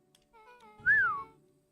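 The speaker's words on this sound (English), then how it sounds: "Rollo let out a low whistle." A low whistle from a character in the video game Beacon Pines: a single clear tone that rises and then falls, fairly loud and heard alone over a soft background.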